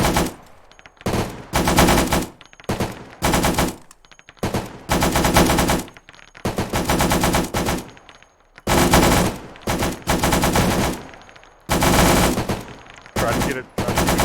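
Rifles fire in repeated short bursts on a firing range in Arma 3, loud rapid strings of gunfire separated by brief pauses, with faint voices now and then.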